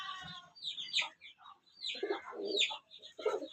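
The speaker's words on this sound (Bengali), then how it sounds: "এই যে আমার লাক্ষা কবুতর দেখেন দুই জোড়া লাক্ষা কবুতর আছে আমার" Lakka fantail pigeons coo softly in short bursts, mixed with a few higher chirps, close by and fairly quiet.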